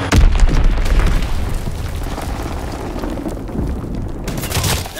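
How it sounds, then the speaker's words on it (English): In Call of Duty: WWII, a bomb explodes with a loud, deep boom that rolls on in a long rumble and swells again near the end. "Enemy bomb incoming! Get to cover!"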